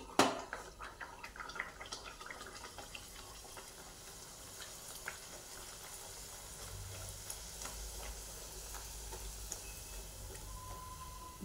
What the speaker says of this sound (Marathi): आणि आपण पुरी टाकून घेऊया.